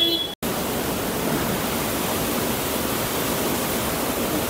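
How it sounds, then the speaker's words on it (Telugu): A steady, loud roar of rushing water from Kanchenjunga Waterfall in West Sikkim fills the air continuously after a brief cut at the start. "Kanchenjunga water fall"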